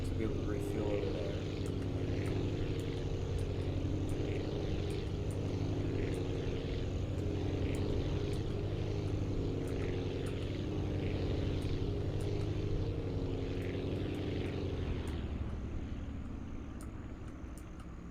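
Propeller plane engine in the Aviassembly video game, a steady droning hum with layered tonal harmonics that holds for most of the clip, then fades and drops near the end.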